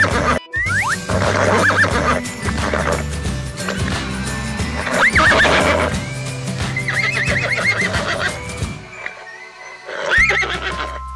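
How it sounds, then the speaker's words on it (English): A horse neighs in loud, repeated whinnies over clip-clop hoofbeats and busy toy-like sound effects, close and dominant throughout. "Horse."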